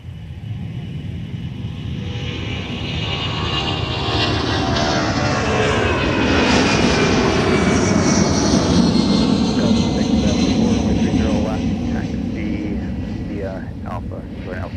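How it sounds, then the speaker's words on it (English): A Delta Boeing 757-200 jet departs Minneapolis–Saint Paul airport, its loud broad engine roar swelling steadily and holding strong for the whole stretch, with no talk over it. "Here's Delta 1032 off to Atlanta, Hartsfield, Jackson with a Boeing 757-200"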